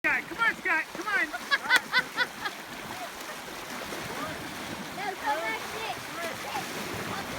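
Bodies splash into a freezing Upper Peninsula Michigan lake in a quick burst of close, loud splashes and churning water, followed by softer lapping and sloshing as the swimmers move about.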